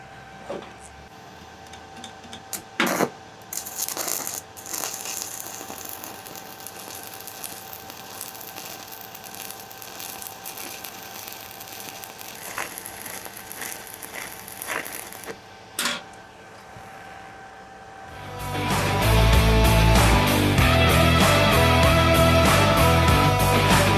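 Stick electrode arc welding with a Micro Vertex 210 welder: after quiet handling and a few clicks, a loud, dense crackling sizzle starts near the end and runs steadily, close and alone.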